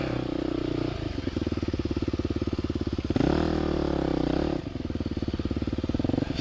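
A dirt bike ridden over dirt and sand gives a steady, loud engine drone with a rapid rhythmic pulse. The pitch swells briefly in the middle as the throttle opens, then settles back to a steady run.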